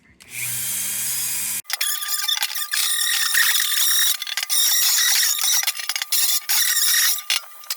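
Power drill spinning steel wool against a rusty vintage miner's lunchbox, a loud steady high-pitched whirring scrape with a brief squeal, running almost continuously after a short pause, with no talk.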